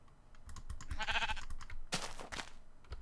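A sheep bleats in the video game Minecraft, a wavering mid-pitched bleat followed by a second short burst, heard alongside rapid keyboard typing clicks.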